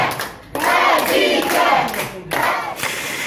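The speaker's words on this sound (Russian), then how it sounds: "В здании суда гражданские активисты и коллеги-журналисты, протестуя против процесса и с целью поддержки Хадиджи, устраивают флешмоб, аплодируют." Civil activists and fellow journalists stage a flash mob inside a courthouse, loud sustained clapping mixed with a crowd chanting in unison in bursts, close and echoing in an indoor hall.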